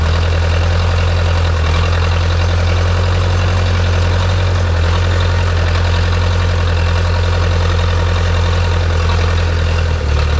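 Backhoe engine idling in a junkyard video game, a loud, steady low diesel drone with a constant rumbling hum that dips briefly near the end, no speech.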